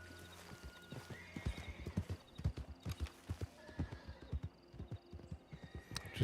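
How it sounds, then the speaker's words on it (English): A horse in the video game Red Dead Redemption gallops along a road. Its hooves clip-clop in a quick, rhythmic beat, with a whinny mixed in, close and clear. "Just a lone citizen galloping through the road there."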